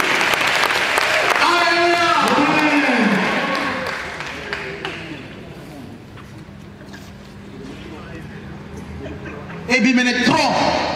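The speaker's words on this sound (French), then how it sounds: "On acclame Jésus-Christ." A church congregation in Lomé applauds and cheers loudly for Jesus Christ, a broad wash of clapping with voices rising over it, fading midway and swelling again near the end.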